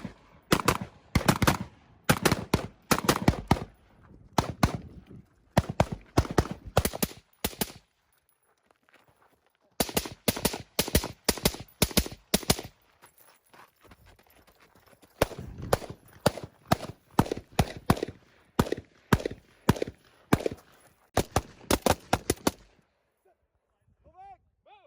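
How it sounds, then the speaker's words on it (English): Carbine shooting drills with shoulder switches from unorthodox positions produce rapid strings of loud, sharp gunshots in repeated volleys, each run broken by short pauses across the whole stretch. "we're also doing some shoulder switches and shooting again from some unorthodox shooting position"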